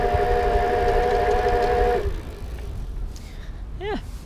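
An ElectroBike Gama Cruise electric bike weighing 53 pounds strains its motor: a steady tonal whine hums for about two seconds and then cuts out, leaving rough wind-like noise.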